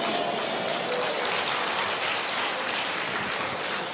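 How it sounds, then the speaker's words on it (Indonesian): Audience clapping during a live religious debate, a dense continuous wash of applause from a crowd, steady and moderately loud with no talk over it. "Nggak usah tepuk tangan."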